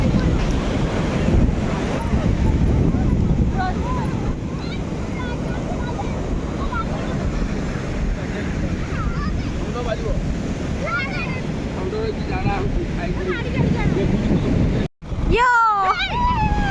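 Wind and surf roar steadily at Chandrabhaga beach, a broad rushing wash of ocean waves with wind buffeting the microphone, while distant voices and calls of people on the shore drift in over the noise.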